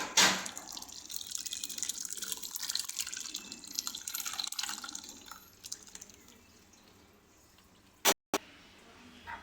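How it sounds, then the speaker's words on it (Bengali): Blended fresh watermelon pulp, with no water added, strains through a sieve for a sherbet, giving soft wet trickling and dripping that fades over several seconds before a brief sharp knock near the end. "এবার এটাকে আমরা ভালো করে ছেঁকে নিচ্ছি"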